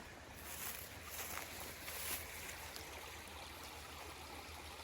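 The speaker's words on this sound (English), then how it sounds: "There's a little creek right here." A small creek flows through woods beside an old road, giving a steady, soft broadband rush of running water that stays even and fairly close throughout, with no voices.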